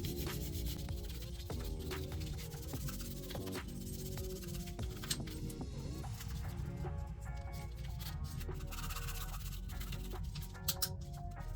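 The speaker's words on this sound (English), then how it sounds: "we're just going to use nylon, and we're just going to give it a nice even scrub all the way around" A nylon brush scrubs disassembled Beretta M9A4 pistol parts coated in factory oil, making a close, continuous rubbing scratch in rapid back-and-forth strokes with a few light knocks and no talk.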